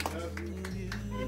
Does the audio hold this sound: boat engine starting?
no